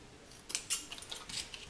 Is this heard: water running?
no